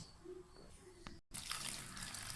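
Hot water pours into wheat flour in a kitchen, first as a thin trickle and then, after a brief break, as a louder, steady splashing stream close by.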